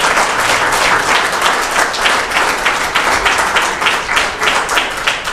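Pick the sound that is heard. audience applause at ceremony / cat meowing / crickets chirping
audience applause at ceremony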